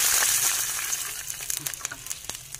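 Garlic and onion sauté in a hot pan for kare-kare, a steady bright sizzle with small crackles and pops that thin out toward the end, close and alone.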